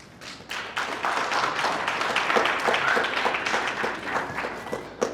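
At a commencement ceremony, an audience claps in a sustained, fairly loud burst of many hands, with some sharper individual claps and taps standing out over the crowd.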